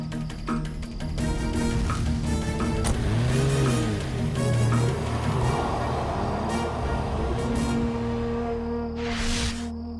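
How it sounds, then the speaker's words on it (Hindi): An expensive car's engine revs hard as it pulls away at night, a loud, rising and falling mid-pitched roar that swells over several seconds before easing into a steadier drone. "इतनी महंगी गाड़ी में रोनी, इतनी रात को कहाँ जा रहा है?"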